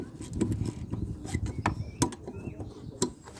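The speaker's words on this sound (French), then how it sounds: "Et là on dévisse. On dévisse, on dévisse." A bolt holding a lawn mower blade is unscrewed with a hand tool, giving irregular mechanical clicks, ratchet-like ticks and knocks up close at moderate volume, with no talking over it.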